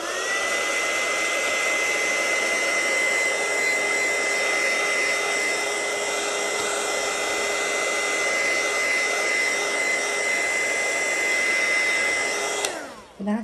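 A hair dryer blows steadily and loudly, close by, drying black paint on a mixed media journal page, a constant whirring roar that runs unbroken for most of the stretch before switching off near the end.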